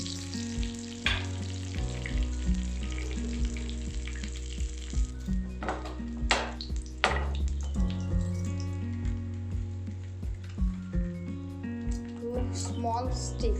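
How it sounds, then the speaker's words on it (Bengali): Dried red chillies, cumin seeds and bay leaves crackle and sizzle in hot oil while cooking Bengali dahi fish, a steady frying hiss with scattered pops, under background music. "শুকনো লঙ্কা, এটা একটু ফাটিয়ে দিচ্ছি।"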